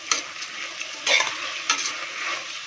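Soaked, drained basmati rice being stirred into sautéed green peas in a hot pan for pulao, with a steady close sizzle and a few scraping stirs of a spoon against the pan.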